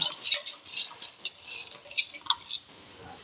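Water and washed, roasted green gram are poured into a pressure cooker on the stove, giving scattered close splashes, drips and light patters of varying strength.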